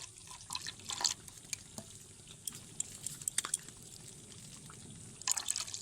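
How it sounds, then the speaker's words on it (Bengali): Rose water and kewra water are poured into a pot of homemade biryani. The result is faint, close drips and light trickling splashes, with a few small bursts near the start and the end. "গোলাপ জল দিয়েছি কেওড়া জল দিয়েছি"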